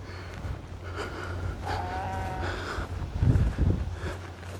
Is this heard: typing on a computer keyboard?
no